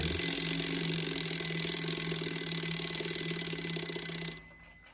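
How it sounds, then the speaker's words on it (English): An 1891 Waterbury repeater alarm clock rings its alarm, a loud continuous metallic bell clatter with bright high tones, before cutting off abruptly near the end. "First, I'll check the alarm. Make sure it rings at the correct time."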